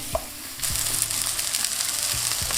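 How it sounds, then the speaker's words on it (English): Seasoned beef patties for a double cheeseburger drop into a hot pan of leftover onion oil and sear with a loud, steady sizzle after a few faint knocks of handling. "When the pan is nice and hot, add the beef seasoned side down."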